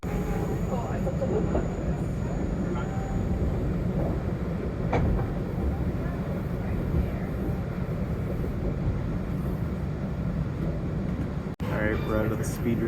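A steady, rumbling train rolls along a freight corridor on the Richmond Hill line at speed, constant low-frequency noise heard from inside, with a brief voice partway through.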